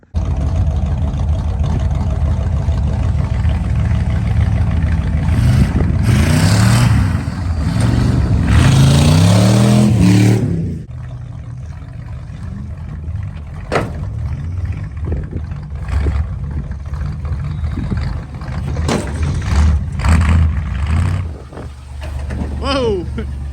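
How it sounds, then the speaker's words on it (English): Racing trucks in a truck racing league rev their engines loudly, with a rising, roaring burst of acceleration near the middle, then quieter engine rumble and clatter with people talking over it. "a racing league, and we race trucks"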